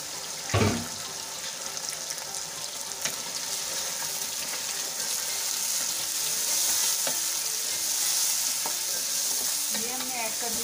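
Chicken frying over high heat in a pot as green chili and tomato paste go in, a steady close sizzle and stirring with an early thud and occasional scrapes, no talk.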